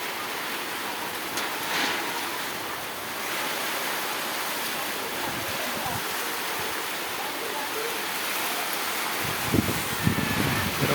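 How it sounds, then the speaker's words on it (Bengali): Heavy rain pours steadily through a stormy night, a dense, even hiss with occasional gusty swells and a few louder knocks near the end. "প্রচুর পরিমাণে ঝড় বৃষ্টি।"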